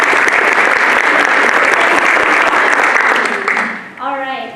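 A live audience at a community arts class presentation applauds, dense and loud, holding steady before fading as a voice begins speaking at the close.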